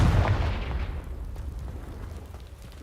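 Confringo blast spell exploding in Hogwarts Legacy, a single deep booming burst up close that rumbles and fades over a couple of seconds, with no talk.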